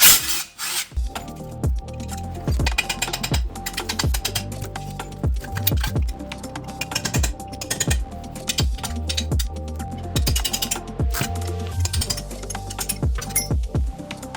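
Ratchet wrench working on 16mm bolts at the rear of a 2002 BMW X5 E53, steady repeated ratcheting strokes with sharp metallic clicks, close and loud throughout.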